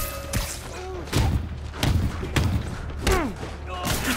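Rocket explosions in Marvel's Spider-Man, several heavy thudding blasts roughly a second apart, loud and close, with whooshing streaks between the impacts.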